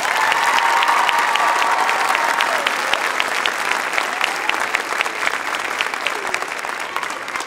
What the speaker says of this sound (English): So big round of applause for Caitlin Nelson.